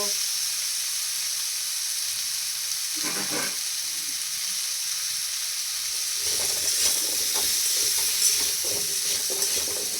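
Potatoes fry in a pan with a steady hiss of sizzling oil and occasional stirring, strongest toward the end, no voices.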